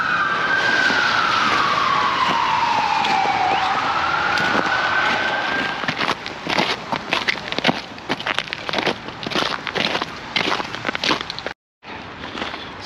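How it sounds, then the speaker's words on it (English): An ambulance siren sweeps up and down in Washington D.C. street traffic, loud and close at first, then broken by traffic noise. "What's that sound? An ambulance."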